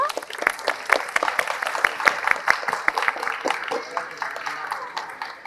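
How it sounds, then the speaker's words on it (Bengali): Applause from a crowd of pupils and guests at a prize-giving at Bandura Holy Cross School and College, a moderate burst of hand clapping that rises and then tapers off, heard fairly close. "হাততালি হবে ওদের জন্য"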